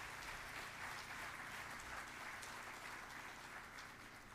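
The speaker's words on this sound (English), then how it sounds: "It was a round of applause to our dedicated faculty and staff." Faculty and staff receive a steady round of applause at a celebration of excellence, a dense, even wash of many hands clapping, heard faintly and at a distance with no voices over it.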